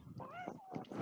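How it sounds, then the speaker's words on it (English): A cat meows softly in a rising and falling tone, a couple of drawn-out calls over a noisy background with faint voices. "I heard her say meow."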